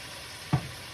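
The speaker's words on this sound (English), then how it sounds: "we're going to throw the wine" Wine splashes into a hot pan of pork chops, giving one brief, close whoosh of sizzle that rises sharply over a low background frying hiss.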